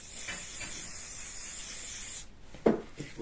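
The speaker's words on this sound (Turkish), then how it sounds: "Şimdi spreyliyoruz." A steady, continuous aerosol hiss for about two seconds, then it cuts off, followed by a few short taps and rustles.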